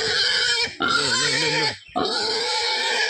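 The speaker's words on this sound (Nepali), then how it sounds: "यहाँ सुँगुरले उसको खाना माग्दैछ के" A hungry pig squeals loudly and insistently up close, in long harsh cries with wavering pitch broken by two brief pauses, with no talk over them.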